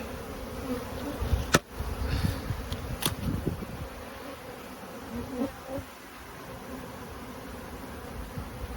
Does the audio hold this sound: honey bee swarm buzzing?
yes